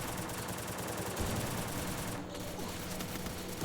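Rapid bursts of video game gunfire from Free Fire, a dense, steady rattle of shots that fills the whole stretch at a moderate level with no talking over it.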